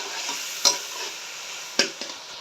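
Fresh peas fry in oil and ghee with a soft, steady sizzle, broken by a few sharp scraping stirs of a utensil in the pan.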